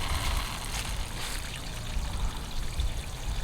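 Water pours steadily from a hose hooked up to the engine of a 1986 Aquasport boat, making a continuous close splashing rush with no breaks or talking.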